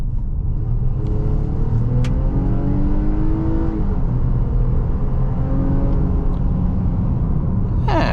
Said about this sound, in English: We'll floor the throttle and see how fast we get up to speed.